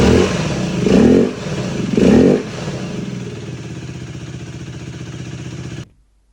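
A 125cc Aprilia RS4 engine fitted in a Mondial HPS 125 motorcycle revs twice in quick bursts, then settles into a steady, close idle before cutting off abruptly.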